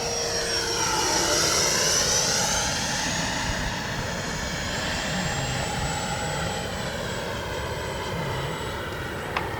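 An RC model L-39 jet flies past with its landing gear down, a steady loud turbine whine that rises and then falls in pitch as it passes.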